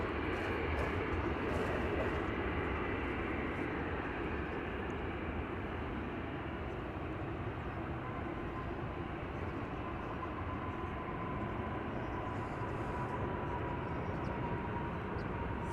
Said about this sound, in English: I'm going to quickly spot the arrival of Volaris Flight 492.